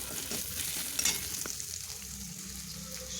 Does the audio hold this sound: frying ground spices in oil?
yes